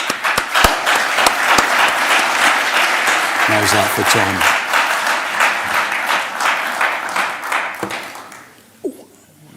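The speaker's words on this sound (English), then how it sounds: "shall we thank Dave with a round of applause?" An audience at a talk on tunnel maintenance, repair and improvement gives a round of applause. The clapping is loud and dense, then thins and fades toward the end, and someone speaks briefly partway through.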